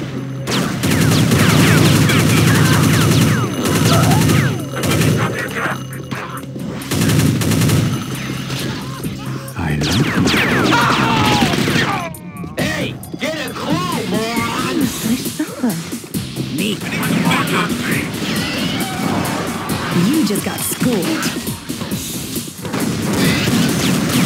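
Heavy gunfire and booming blasts from a sniper rifle in a fast Unreal Tournament deathmatch, loud and dense, mixed with game sound effects and a voice talking over the action.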